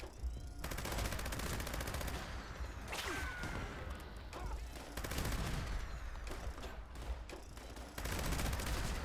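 Heavy automatic gunfire from a heavy gunner build in the video game Fallout 76 rattles in long, loud, continuous bursts with brief gaps and sharp impact cracks between them.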